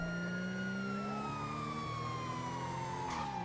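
Wailing ambulance siren in GTA roleplay, loud and close, sweeping pitch over a steady vehicle engine rumble.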